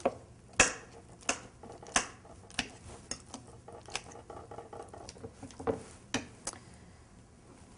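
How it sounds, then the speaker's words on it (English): Fork mashing soft ingredients in a bowl for a Mexican layered dip, giving a series of soft squishy presses and light clinks of metal against the dish, close and fairly quiet, with no talking. "with a fork, I'm just going to mash them up"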